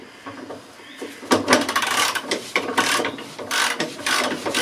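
A hand ratchet clicks in quick, uneven bursts while tightening the bolts on a Ford Focus 2 rear shock absorber, loud and close with brief pauses between strokes and no talking.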